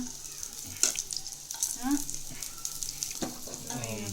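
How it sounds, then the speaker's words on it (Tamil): Chicken masala vadai cutlets frying in oil, a steady close sizzle with occasional pops and stirring clatter, with brief voice sounds in the background. "டூ சைட்ஸும் நல்லா ப்ரௌனிஷாக வர வரக்கு நீங்கள் ஆயிலில் கொஞ்சம் குக் பண்ணுங்கள் ஃப்ரை பண்ணுங்கள்"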